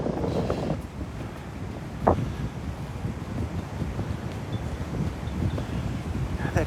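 Strong wind on Delnor-Wiggins beach buffeting the microphone, a constant loud roar and rumble with a few gusty thumps, no voices.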